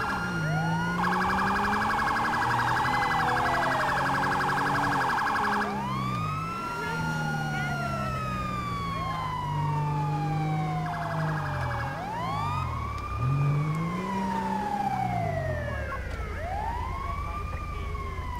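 Sirens wail and yelp continuously in a GTA 5 police escort scene, including an ambulance siren, with sweeping tones that rise and fall and switch patterns, loud and sustained with engine rumble underneath.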